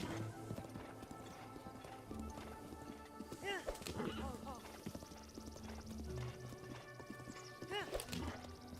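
Horse hooves clip-clop in The Legend of Zelda: Breath of the Wild, playing in Master Mode, a steady galloping rhythm beneath game music and someone talking over it.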